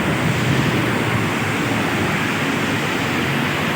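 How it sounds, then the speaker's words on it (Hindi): Waterfalls along the Ratti Gali mountain trek rush in a steady, loud broadband hiss, continuous and unbroken with no talking over it. "ये झरने देखें जनाब"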